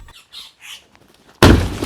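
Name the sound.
birds squawking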